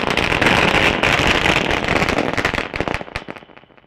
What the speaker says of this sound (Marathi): बघा फटाक्याची आतिषबाजी या ठिकाणी केली